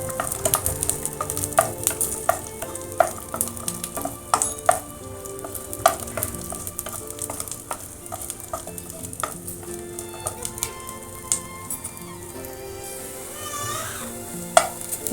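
Garlic chutney powder ingredients are roasted and stirred in a pan, with repeated scraping clicks of the spoon against the metal over a faint, steady sizzle.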